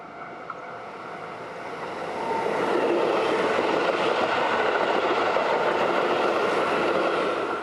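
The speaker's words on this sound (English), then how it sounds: "I'll watch another train go by" A train passes close by in Japan, a steady rolling rumble that swells after a couple of seconds and holds loud, with faint wheel clatter and no talk.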